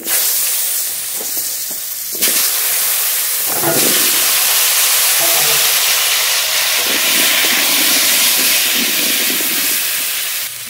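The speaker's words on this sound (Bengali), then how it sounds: "মাছ ভাজা তেলের মধ্যেই আলু ভেজে নেব" Potatoes frying in oil already used to fry fish make a loud, dense hiss that surges sharply at about the two- and four-second marks and then stays strong and steady.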